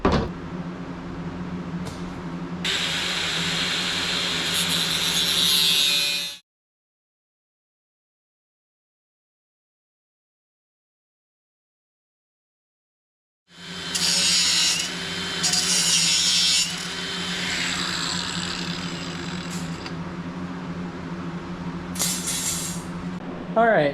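A power tool grinds and cuts steel floor sections for a Chinese AGT QH12R mini excavator, harsh and close, with a long silent break between two cutting passes.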